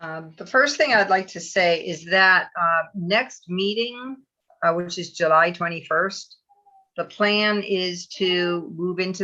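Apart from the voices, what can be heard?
None of the usual background noises is heard.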